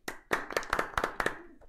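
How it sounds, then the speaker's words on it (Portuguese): A handful of sharp, separate claps on a Brazilian podcast set, about eight uneven slaps close to the mic over under two seconds, sparse and slightly forced. "Palmas pra Flávio Andrade"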